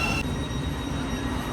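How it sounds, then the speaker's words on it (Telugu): A Thameslink train rolls into the station with a steady low rumble and wheel noise, a brief high whine at the start, close and continuous without voices. "ఇదే మన ట్రైన్. Thames link"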